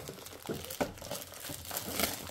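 Plastic packaging from a Temu haul of office organisers and jewellery being cut and torn open, giving close, irregular crinkling and crackling bursts with a sharper snap partway through.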